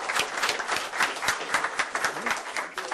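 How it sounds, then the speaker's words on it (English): An audience claps in a room during a change management session, a dense steady round of applause lasting a few seconds. "So can you give yourself a round of applause"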